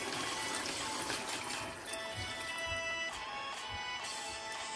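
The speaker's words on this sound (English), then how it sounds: "I'm gonna add 1 cup of water to this." A cup of water being poured into a pot of Jamaican brown stew pork, a continuous splashing trickle with brief bubbling and sizzling bursts, close and moderately loud with no talking.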